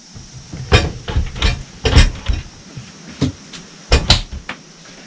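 Storage cupboard doors in a 2021 Jayco Journey Outback pop-top caravan knock and thud open and shut several times at close range, a series of short sharp clunks with brief rattles between them.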